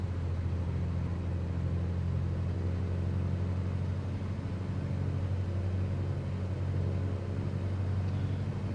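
A Cessna Skylane 182 RG II piston engine held at 1700 RPM in Microsoft Flight Simulator drones as a steady, even hum that does not change throughout.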